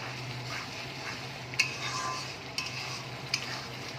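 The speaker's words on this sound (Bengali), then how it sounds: "এবার আমি এই পেস্টটা যে বানিয়ে রেখেছিলাম সেটা আমি দিয়ে দেবো।" Spice paste being stir-fried in a pan for katla kalia, a Bengali fish curry, with a soft continuous sizzle and three sharp clinks of a spoon scraping the pan.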